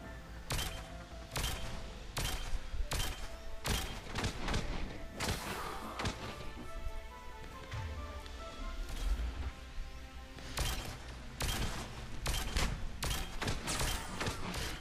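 Scorpion 5 weapon firing in a video game: repeated sharp bursts of gunfire and heavy thuds hit at irregular intervals over a dense, continuous background of game sound.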